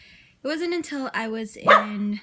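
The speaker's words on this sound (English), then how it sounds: "that's my dog Fitzgerald" A pet dog named Fitzgerald barks several times in a quick run of loud, close yaps while a person talks.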